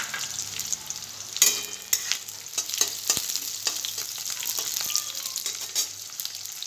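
Diced onion and capsicum crackle and sizzle in hot oil in a pan, with sharp scrapes and clicks of a spatula stirring through them at close range; no voices.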